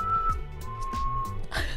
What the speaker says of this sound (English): that is like probably the best whistle I've ever done